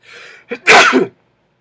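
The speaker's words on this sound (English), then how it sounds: "I feel like I'm gonna sneeze." A single loud sneeze with a quick inhale before it, close to the listener, then silence.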